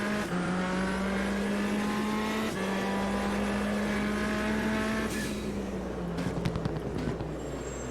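A semi truck's racing engine in the racing sim Automobilista 2 roars steadily, its pitch holding high then shifting through gear changes, with a few rattling clunks near the end, no talking.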